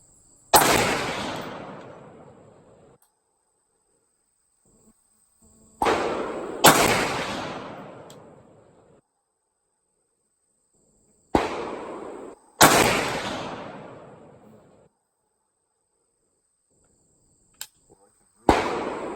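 Rifle gunshots from a big-bore .458 SOCOM AR-15 fired outdoors, four loud sharp reports several seconds apart, each trailing off in a long rolling echo, with faint sounds between and a small click near the end.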